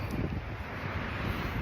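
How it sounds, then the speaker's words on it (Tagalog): Continuous cold winter wind blowing hard against the microphone in Canada, a dense low rumble with rustling, steady and close. "malamig na yung simoy ng hangin"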